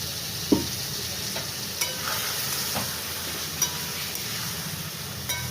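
Potol and shrimp frying in a pan, a steady soft sizzle with faint clinks and light stirring taps scattered throughout.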